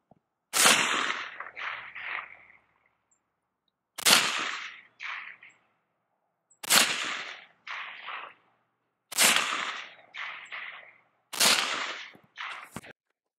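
Five sharp, loud rifle shots of M193 5.56 ammunition fired from a 16-inch, 1-in-7 twist barrel outdoors, spaced about two to three seconds apart, each crack followed by a rolling echo; no talking.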